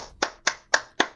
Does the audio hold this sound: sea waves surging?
no